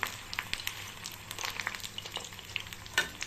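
Jute leaf fritters frying in oil, a soft continuous sizzle with scattered crackling pops and light stirring, moderately quiet and close, with no voices.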